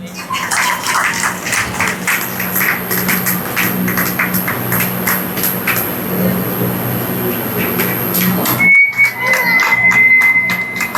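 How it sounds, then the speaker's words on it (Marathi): Loud, continuous applause from an audience at a felicitation ceremony at a Shri Swami Samarth centre in Khadki, Pune, with dense clapping that breaks off sharply near the end. "जोरदार टाळ्या होऊन जाऊ द्या."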